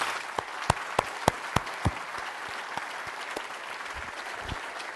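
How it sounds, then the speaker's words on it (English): An audience at a medical school gathering applauds a group of faculty master educators, with several distinct nearby claps standing out at first over a steady, moderately quiet patter of many hands. "Let's please give them a big round of applause."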